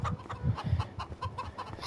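Older chickens on a Farming Simulator 25 farm cluck in short, repeated bursts, a soft irregular clucking that runs steadily throughout, moderately close and with no talking over it.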